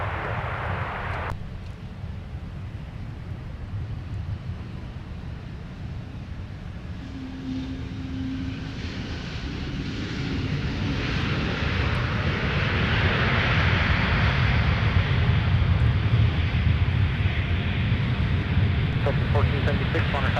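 A Citation business jet landing on runway 12 right at Minneapolis airport, a broad jet roar that swells louder toward the end, with radio voices heard over it.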